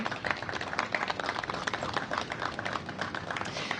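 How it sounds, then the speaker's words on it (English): A crowd at a Fourth of July public safety briefing gives a round of applause, a dense, steady patter of many hands clapping continuously throughout. "So give them a round of applause."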